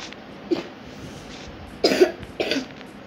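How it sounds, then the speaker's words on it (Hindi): A girl coughs close by in three short bursts, one small cough followed after a pause by two louder, harsher ones in quick succession, against a quiet room background. "क्या खांस रही हो?"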